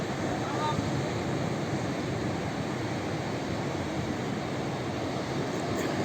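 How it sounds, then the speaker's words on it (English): Stormy surf on the normally calm sea at Singaraja, Bali, churns in a steady, rough roar with gusty wind buffeting the microphone, continuous and fairly loud throughout. "So, this is the normally no wave ocean"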